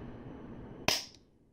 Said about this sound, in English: Pretty loud click.